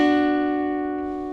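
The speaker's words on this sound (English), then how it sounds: "And you're going to pluck those 2 strings together." Two guitar strings are plucked together once, ringing as a clear sustained tone that slowly fades.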